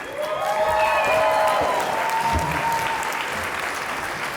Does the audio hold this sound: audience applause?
yes